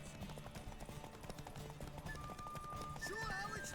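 Horse hooves gallop in The Witcher 3, a steady rhythmic beat running through the whole stretch while game voices and music carry on over it.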